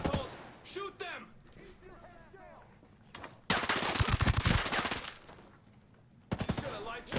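PS4 video game gunfire: loud bursts of rapid automatic shots in two long stretches, with shouting voices in the gaps between volleys.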